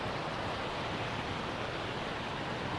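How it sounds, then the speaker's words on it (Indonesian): Ocean waves wash in a soft, steady broadband rush near an island crossing, faint and continuous with no distinct breaks or voices. "Lihat masih ada ombaknya."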